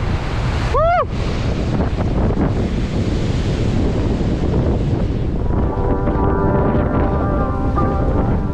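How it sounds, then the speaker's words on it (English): Cold, strong wind buffets and roars across the microphone in a constant loud rush at a Minnesota off-grid cabin, with a brief high whistling sweep near the start. "Oh my gosh, it's cold and windy."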